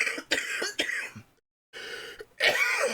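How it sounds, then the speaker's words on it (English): A sick person coughs several times in a quick burst, pauses briefly in silence, then coughs again in harsh, close-up fits. "God, why do I keep coughing?"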